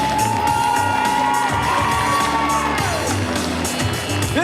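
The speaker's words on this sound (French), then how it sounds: "ça s'applaudit mesdames et messieurs" Crowd at a cosplay parade during a manga convention in Saint-Étienne cheering and whooping loudly over a steady, full ambience, with music or backing track present and no clear clapping standing apart.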